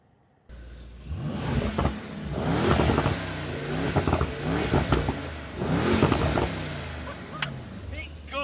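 A Mercedes-AMG E63s engine revs and accelerates in repeated surges, a deep throaty roar rising and falling several times, heard from inside the car, with someone talking over it.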